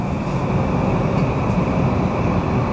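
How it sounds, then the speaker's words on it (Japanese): A train pulls in at platform 2 of Kamakura Station with a loud, continuous rumble and hiss of wheels on rails, and a steady high tone hangs over the noise. "2番線列車到着です。"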